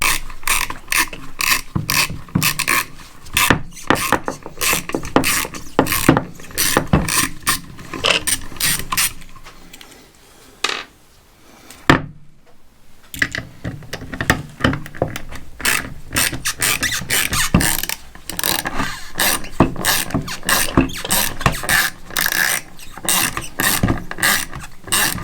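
A ratchet turning a torque head screw on a Ford 6.0 diesel FICM, rapid close clicking in repeated bursts with a short pause midway.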